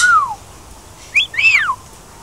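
A parrot whistles close and loud, one falling whistle followed after a pause by two rising-then-falling whistled notes, clear against a quiet room.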